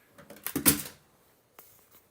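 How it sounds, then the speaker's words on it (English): A phone drops onto a surface indoors, giving a quick cluster of clattering knocks, then a couple of fainter taps a moment later. "What just dropped? I think that was just my phone."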